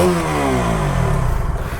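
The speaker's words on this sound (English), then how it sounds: "Let's give a bit of a throttle. Just from the exhaust note" A KTM Duke 200 motorcycle engine revs up sharply then settles back into a rough, throbbing idle, loud and close.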